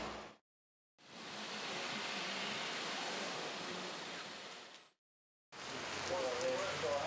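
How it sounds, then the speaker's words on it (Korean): Steady hissing rain from a sudden rain shower during the rainy season pours down in two bursts separated by brief silences, loud and close like a sudden downpour. "소나기의 때 아닌 급습."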